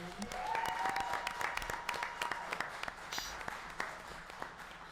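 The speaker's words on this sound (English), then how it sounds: "give a big round of applause for Third and Longhorn" Audience applause for the host at a live Texas Longhorns football season awards show, with steady dense clapping across the crowd throughout, sharp individual claps standing out near the front, and faint voices underneath.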